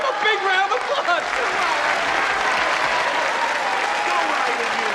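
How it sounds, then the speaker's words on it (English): A crowd applauds for a retired chairman, a full, continuous wash of clapping, while voices call out over it near the start before the clapping carries on alone. "Give him a big round of applause!"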